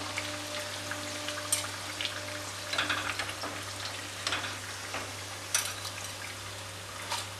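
Potato-filled snacks deep-frying in oil, a soft continuous bubbling sizzle with occasional faint crackles and pops, heard fairly quietly against a low steady hum with no one talking.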